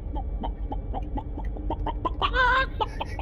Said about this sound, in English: they turned my tactical officer into a chicken